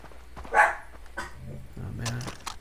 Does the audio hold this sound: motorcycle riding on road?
no